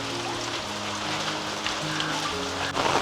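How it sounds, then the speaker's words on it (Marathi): Steady rain falls over a Konkan village during the monsoon, a continuous broadband hiss with no voices, ending in a brief louder rush. "चला पाऊस परत सुरू झाला"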